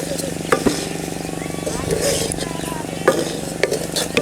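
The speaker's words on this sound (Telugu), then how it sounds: "అన్నం వేసిన తర్వాత బాగా అన్నానికి మసాలా పట్టేటట్లు మొత్తం కలుపుకోవాలండి ఇట్లా" Cooked rice with masala is stirred in a pan for egg fried rice. A continuous sizzle runs underneath, with occasional scraping knocks of the spoon against the pan.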